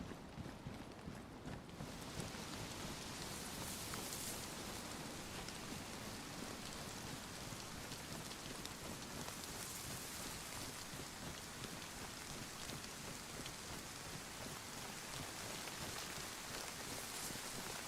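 Rain falls steadily in the video game DayZ, a dense, even hiss of drops hitting surfaces that continues without a break at moderate loudness.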